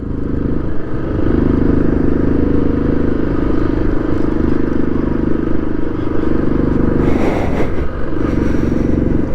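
A motorcycle runs loud and close on a Himalayan mountain road toward Shinkula Pass, its engine jerking and misfiring under a steady drone with wind rush, and a brief rattling clatter near the end.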